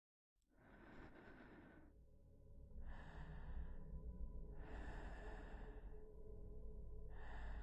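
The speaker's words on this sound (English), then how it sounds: "Heavy breathing ensues." Heavy breathing from the horror game (Don't) Open Your Eyes: slow, loud, close breaths in and out, each long rasping exhale followed by a pause, repeating about four times with no talk.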